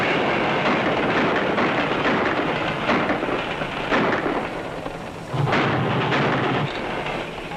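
A steam train from 1941 rumbles past at close range, a loud continuous roar with rhythmic surges and clatter building and easing over several seconds.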